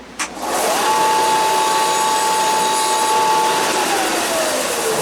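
A power tool whirs steadily for about three seconds while chamfering the end of an incense cedar bow drill piece, holding a fairly constant pitch after a brief knock, then winding down.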